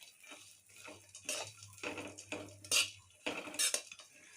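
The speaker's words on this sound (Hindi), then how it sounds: "सारे ड्राई फ्रूट को जो है हमें अच्छी तरह से भून लेना है।" Dry fruits and figs roast in a pan for sugar-free laddoos while a metal spoon stirs, producing sharp clinks and scrapes in uneven bursts against the pan, close and fairly quiet, with no talking.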